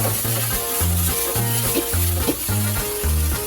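Water apple pieces fry in oil for a curry, a close steady sizzle with pulsing low rhythmic thuds underneath, no voices.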